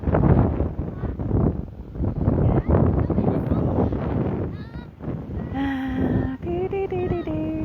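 Heavy wind buffeting the microphone with a continuous low rumble and roar, briefly joined by a faint tonal whine near the end.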